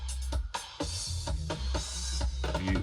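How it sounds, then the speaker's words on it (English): Soloed drum stem separated from a dub reggae record, with a heavy kick and snare hits in a steady, loud, upfront pattern and reverb tails between the hits, no voices. "I'll solo the drums in."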